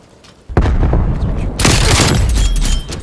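Gunfire in Black Ops Cold War, a loud dense burst of shots and booming impacts that starts sharply half a second in and keeps rattling close by, thickening after the midpoint.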